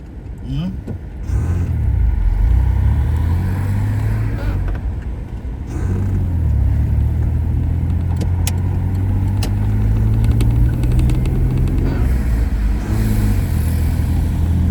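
Traffic passing along a Vancouver road in the Renfrew-Collingwood and Kingsway area, a steady close engine rumble from cars going by for the whole stretch, with people talking over it.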